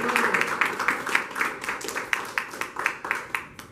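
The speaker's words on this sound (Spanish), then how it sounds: "Denle un aplauso a Dios." Church congregation clapping in a loose, fairly regular rhythm, many hands together at moderate loudness, steady throughout with no talk over it.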